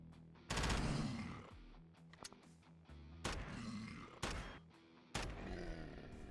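Gunfire in the sci-fi video game Quasimorph: several separate loud bursts of shots, each a few rapid reports, spaced about a second apart, with mechanical clanks and game tones between them.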